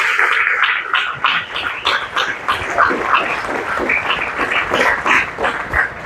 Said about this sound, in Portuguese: Vamos aplaudir ao nosso Deus